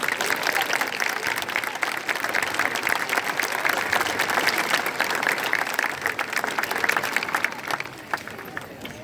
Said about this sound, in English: request a quick round of applause for the parents, teachers, and everyone else in our lives who've helped us to get here this morning